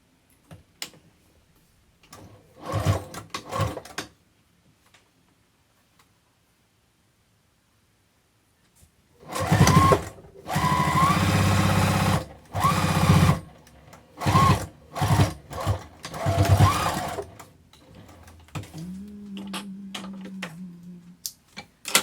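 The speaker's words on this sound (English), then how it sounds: "just line this right up with the edge and do the same thing and just sew down the side" A sewing machine stitches binding onto a zipper pouch, a short burst of whirring and then longer loud buzzing runs broken by pauses, close up, ending with a low steady hum.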